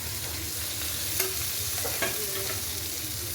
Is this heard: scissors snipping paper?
no